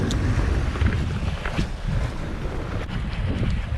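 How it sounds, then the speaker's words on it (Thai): Strong wind gusting steadily across a seashore where squid are being fished from shore, a loud broadband roar buffeting the microphone throughout, with surf faintly mixed in and no talking. "แต่ตรงนี้ลมจะแรงหน่อย"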